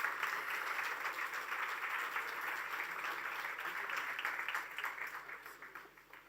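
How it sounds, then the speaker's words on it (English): Audience applause at a Carnatic music celebration, a dense steady wash of many hands clapping that carries on through the clip and thins toward the end. "Please give them another big round of applause."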